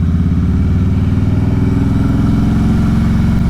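A Harley motorcycle engine runs loud and close while riding, with a heavy, steady low throb and a rapid uneven pulse that holds throughout.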